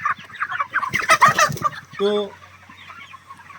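A heavy rooster on a poultry farm clucks and squawks close by, with one drawn-out tonal call midway, as a voice speaks briefly.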